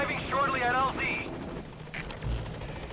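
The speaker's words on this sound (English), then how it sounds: "But I did it via a helicopter, and it took like 3 to 4 minutes" A helicopter in Metal Gear Solid 5: The Phantom Pain whirs and thrums steadily under game sounds, with voices and a low thump heard over the rotor noise.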